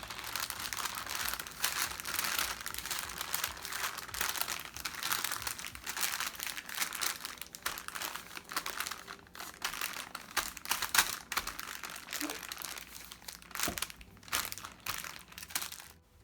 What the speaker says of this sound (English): put your piece of parchment paper on top of your Rice Krispies and gently push it down a little bit